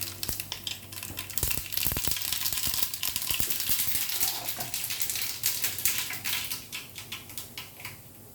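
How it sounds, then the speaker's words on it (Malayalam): Mustard seeds crackle in hot oil for a bitter gourd curry, with dense, irregular sharp pops over a steady close sizzle, loud and continuous with no voices. "കടുക് പൊട്ടിക്കണം."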